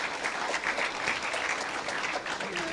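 An audience at a graduation ceremony breaks into steady, dense applause, many hands clapping together for a few seconds without a pause.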